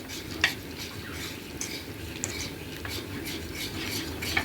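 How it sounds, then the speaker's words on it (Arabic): A spoon stirs milk into béchamel sauce in a pot, giving a steady, soft scraping and sloshing with a few light clinks against the metal, close and continuous under faint background noise. "هحط تاني لبن تاني، وهقلب حبة حبة، وهقلب بالراحة عشان خاطر ما يكلكعش"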